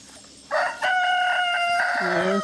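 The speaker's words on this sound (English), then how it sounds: "we come through here to the chickens, you can hear them." A rooster in a backyard garden chicken coop crows loudly and close in one long, drawn-out call lasting about two seconds, over faint background sounds from the surrounding chickens and guinea hens.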